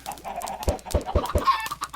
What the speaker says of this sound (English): So we've got a lot of chickens there.